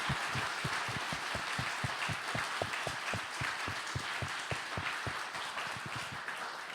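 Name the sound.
audience clapping hands at a prize ceremony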